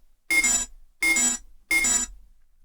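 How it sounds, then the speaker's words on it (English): Three short synthesized sci-fi error beeps made in the Massive synth, each a bright electronic tone burst with a slight pitch shift, evenly spaced and isolated against silence. "This is our initial Sci-Fi error, beep, and boop patch."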